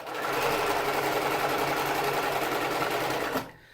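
A domestic sewing machine runs at full speed in a steady, fast mechanical whir for about three seconds, then stops abruptly. It is loud and close, with no talk over it.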